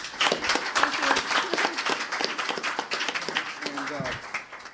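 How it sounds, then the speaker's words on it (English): A lecture audience at a Q&A event on abortion and the right to life gives the speakers a round of applause, with scattered clapping and a voice talking over it. "give a big round of applause for our speakers"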